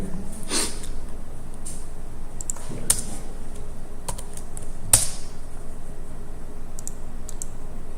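Scattered, sparse clicks from a computer keyboard as a keyboard shortcut is pressed, close and crisp over a steady background hiss.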